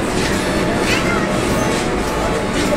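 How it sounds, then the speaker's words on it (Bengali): Steady rumble from inside a moving Kolkata underwater metro carriage, a dense, even roar of running wheels and motors with faint voices beneath. "উঠে পড়েছি মেট্রোর মধ্যে"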